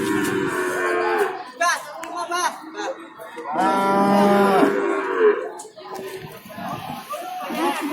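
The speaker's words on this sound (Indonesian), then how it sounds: "Bos itu ada sapi doro simental" Simmental cattle moo repeatedly, long low calls one after another, amid a busy livestock market in Jatirogo, Tuban, with voices and children nearby.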